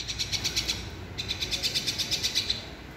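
Baby birds chirp in rapid, high, pulsing bursts as they beg for food. The repeated cheeps come in two trains with a brief pause between them, loud and close.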